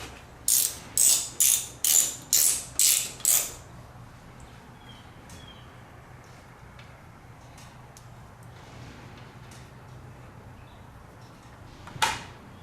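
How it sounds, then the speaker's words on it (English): About seven sharp, loud ratchet strokes in steady rhythm as the drain plug bolt is loosened on a Honda VTX 1300 rear drive, followed by quiet hum and one final click near the end. "I'm just going to take the bolt out."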